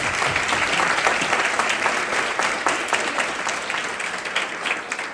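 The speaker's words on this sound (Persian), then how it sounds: "خب لطفا یک تشویق جانانه بکنیم." Audience applause at a Refugee Day event honoring an Afghan woman who climbed Everest, dense sustained clapping filling the room at steady loudness, fading slightly toward the end.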